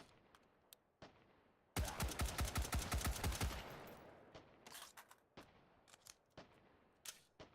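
Rapid burst of gunfire from a firearm range, a dense volley of about a dozen sharp shots, followed by scattered single and paired distant shots popping at irregular intervals.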